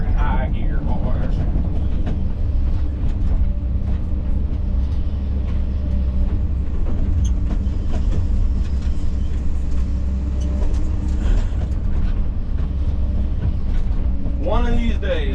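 A John Deere 850 dozer pushes dirt in high gear on a bamboo-clearing job. A loud, heavy diesel rumble runs steadily throughout, with rattling and clanking on top and a brief sharper burst near the end.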